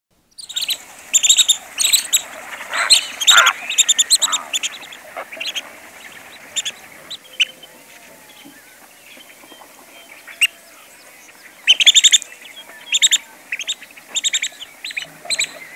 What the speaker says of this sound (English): The Virginia rail is a typical marsh bird and a common bird in the Sargeant Bay wetland. Its call can often be heard